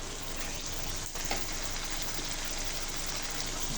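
Loitta dried fish frying with chili powder and spices in a pan, giving a dense, steady, close sizzle that holds at an even level the whole time with no voices.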